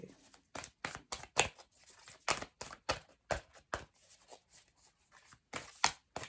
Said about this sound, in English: They're not shuffling very well tonight, these cards.